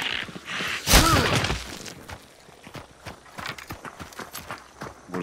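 Horse hooves clip-clop on the ground in the 1896-set game Hunt: Showdown, with a loud shattering crash early on followed by irregular hoof and footstep sounds.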